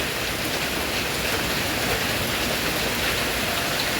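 Heavy rain pours down in a dense, unbroken hiss that holds evenly from start to finish, with no voices.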